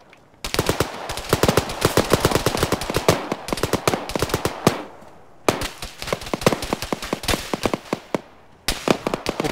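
Loud bursts of automatic gunfire in the military shooter ArmA 3 during a co-op mission, dense rapid cracks in long sustained volleys with brief pauses between them, close and dominant with no talk.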